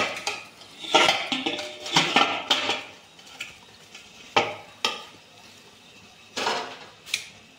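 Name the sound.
transferring steamed sabudana potato dough into a bowl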